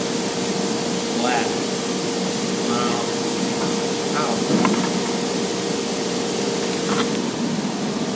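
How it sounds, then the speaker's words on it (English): PB penetrating oil hisses from a spray can onto a rusted rear axle during a four-cylinder lawn mower build, a steady broad hiss under a background hum, with someone talking over it. "Get a little PB on there and let her soak for a minute."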